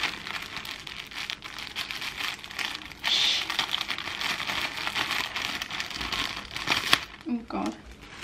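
Plastic bags crinkle and rustle continuously for several seconds, close and fairly loud, while someone talks over the sound.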